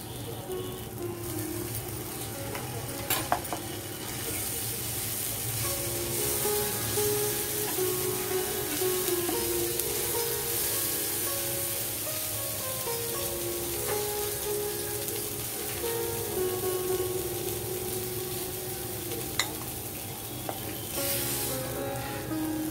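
Erragaram dosa batter cooking on a hot pan: a strong, steady hiss of sizzling with scattered pops and a few light taps, close and sustained without voices.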